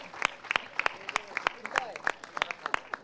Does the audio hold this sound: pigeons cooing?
no